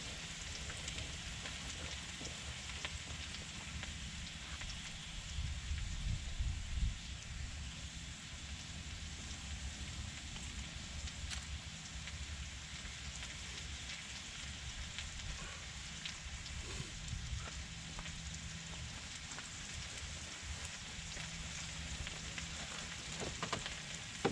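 Onions and mushrooms stir-frying outdoors on a Trangia 27 camping stove, a steady, continuous sizzle held at an even level throughout, with faint wind and no talking.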